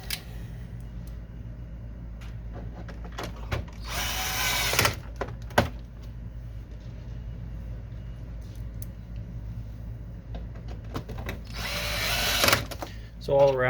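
Screws are driven back into an HP Officejet printer during a printhead replacement (part CQ163-80060), with two louder bursts of a power driver around a steady low hum, punctuated by small clicks and handling noises.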